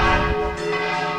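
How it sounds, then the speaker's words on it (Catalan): Church bells ringing before Mass at a feast in honour of Saint Anthony, loud sustained tolling with rich, lingering overtones. "estan sonant ja les campanes que anuncien ja l'últim que res comença la missa"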